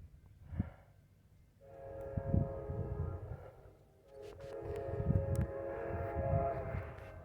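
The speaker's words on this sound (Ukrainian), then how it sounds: "Так, гарно шумить той поїзд і залізничний переїзд в долині" A train passes a railway level crossing in a valley, heard at a distance as sustained, layered horn-like tones in two long swells, with low rumble underneath and no talking.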